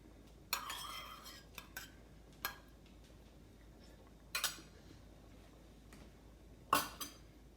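A clean metal spoon dipped into a tasting bowl of chicken and rice soup, with several light, sharp clinks and taps scattered over a quiet kitchen background.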